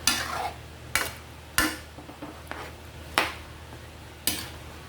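A spoon or ladle scraping and clinking in a cooking pot as a kalabasa (squash) dish is stirred, five or six distinct strokes at an irregular pace, close and fairly quiet over a faint simmer.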